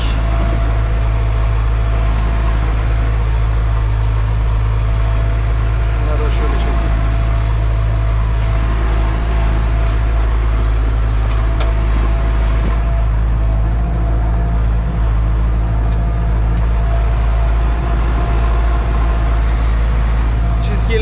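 A Massey Ferguson 3105 tractor engine runs in first gear at around 1000–1600 rpm while pulling a Turan 5-14 plough on stubble, a loud, steady low drone with constant rumble throughout and no clear changes in pace.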